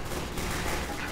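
Rapid pistol fire in a video game, a dense unbroken clatter of shots at steady loudness running through the whole stretch with no pause.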